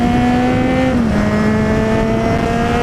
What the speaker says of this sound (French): Là je vois le bout, j'accélère.